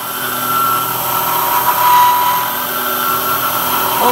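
A CNC Bridgeport mill cuts a hole in a hay rake bearing holder, giving a loud, steady whine with a sustained hum that holds evenly throughout, close by and with no voices.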